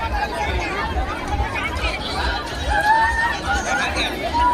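Large crowd murmuring at a political rally in Varanasi, a dense continuous babble of many voices, loud and close, with occasional louder calls rising above it.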